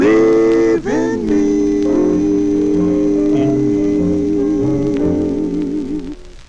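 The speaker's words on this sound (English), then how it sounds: "That's the sound of the four tunes." 1948 78 RPM record by the Four Tunes on the Manor label, a vocal group's sustained harmonies and a warbling lead line playing steadily, then fading out at the end.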